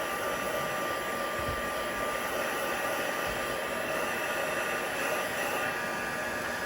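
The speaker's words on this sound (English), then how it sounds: "we're just going to use a heat tool to dry the card" A handheld heat tool blows hot air to dry a watercolour pencil card, a steady loud whirring hum with a constant pitch, close and unchanging from start to end.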